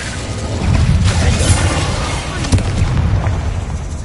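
Fiery spell blasts in Hogwarts Legacy, a dense, continuous roar of booming bursts and crackling, with sharp impacts near 1.5 and 2.5 seconds over a rumbling low end.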